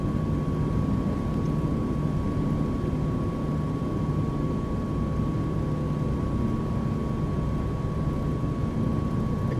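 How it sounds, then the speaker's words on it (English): Caribou airplane engines drone in a flight simulator game, a constant, dense low roar with a steady high tone running through it, unbroken throughout. "Caribou is a really nice airplane."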